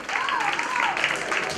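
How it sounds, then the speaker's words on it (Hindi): Audience applause at a stage event: a short, steady burst of crowd clapping, fairly close, with a voice carrying over it. "जोरदार तालियां।"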